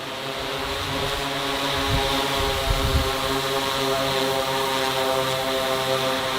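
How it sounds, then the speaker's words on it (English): A delivery drone flying nearby in a city in China, a steady multi-toned propeller drone holding level and fairly loud for several seconds, with light ambient rumble underneath and no talking. "Drone delivery in China, we're literally living in the future."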